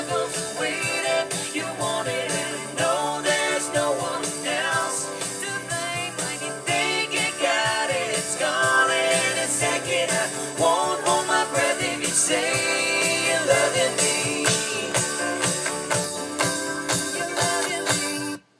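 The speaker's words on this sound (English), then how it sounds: "I'm using a set of KRK Rocket 5 studio monitors" Full-band music with steady drums and layered melody plays continuously through KRK Rokit 5 studio monitors, fairly loud and clear, with no one talking over it.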